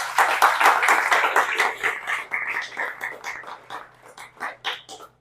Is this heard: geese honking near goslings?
no